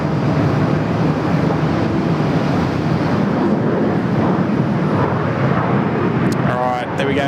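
Aircraft at Sydney Airport, including Qantas traffic near the taxiways, a loud steady engine roar with wind buffeting the microphone, heard from outside with a person talking over it.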